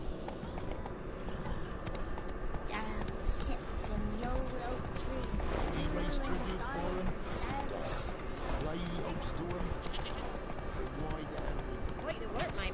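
Hooves of Roach, a horse in The Witcher 3, pound in a steady, quick galloping rhythm across the whole stretch. Someone talks over the hoofbeats.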